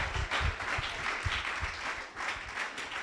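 Audience applause at an evening music event, a brief burst of many hands clapping at a moderate distance, steady through the few seconds and fairly faint.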